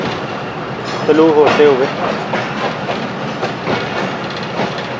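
The 171-Up Sialkot Express passenger train running on rails between Lahore and Sialkot, a rumbling, rhythmic clatter of wheels heard from on board with wind and hiss, while someone speaks briefly over it.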